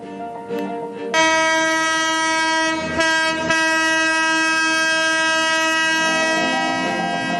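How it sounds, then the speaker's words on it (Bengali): A Darjeeling Himalayan Railway toy train running between Siliguri Junction and Gayabari through forest and tea gardens sounds a loud, sustained horn that starts suddenly and holds for several seconds over rumbling wheels and engine noise. "টয় ট্রেনে ফের শুরু হলো জঙ্গল সাফারি"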